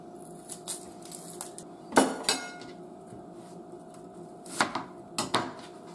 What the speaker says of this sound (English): Now I'm cleaning the onions, a couple of onions.